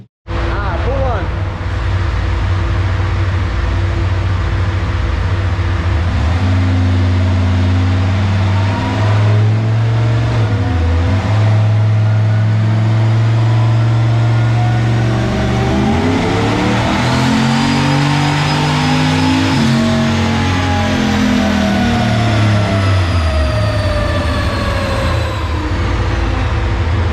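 Engine of the Maliboom build revving hard through a dyno pull at KP Fab and Tune, loud and close, with the pitch climbing, dropping and rising again over the run, and voices talking beneath the roar.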